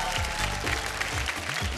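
Studio audience applause welcoming the first judge, a television celebrity, on a Bhojpuri reality show, steady clapping with music and voice-like tones underneath throughout.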